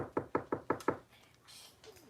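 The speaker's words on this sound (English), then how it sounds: "I knocked on the wall." Five quick, evenly spaced knocks on a wall, loud and close, followed by a faint rustle and quiet room tone.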